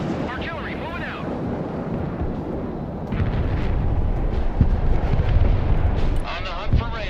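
Rocket artillery explosions in the Broken Arrow war game, a dense, continuous rumble of blasts and booms that grows louder midway, with voices talking over the barrage.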